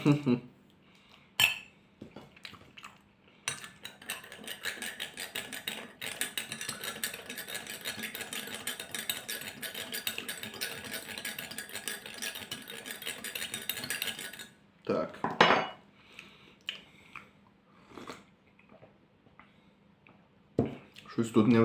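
A metal spoon clinks and scrapes steadily inside a cup while stirring in sugar for about ten seconds, with a few sharper taps before and after.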